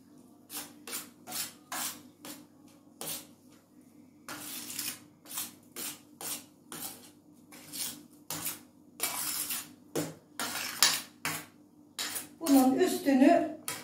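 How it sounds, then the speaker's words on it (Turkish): Soaked bulgur for çiğ köfte is mixed and turned over by hand in a bowl, a series of short wet rubbing and scraping bursts in an irregular rhythm, close and fairly quiet, with someone talking between them. "şöyle bir alt üst edeceğim"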